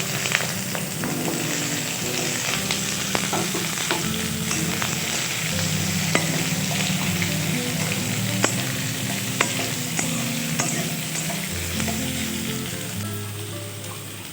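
Potato pieces fry in oil with chopped ginger, bay leaf, dried red chilli and whole cumin, a close, even sizzle running throughout with regular clinks and scrapes of stirring.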